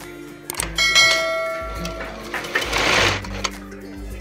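A home sewing machine stitching a fabric collar for a Chinese-collar kurti, whirring in short bursts with pauses and mechanical clicks, close by and fairly loud.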